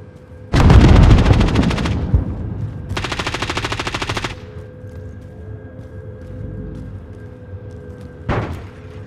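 Automatic gunfire rings out in a first-person shooter video game: two sharp, loud bursts of rapid fire close together, then a quieter stretch and a final short burst.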